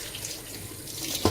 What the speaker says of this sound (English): I'm going to wash my hands for a moment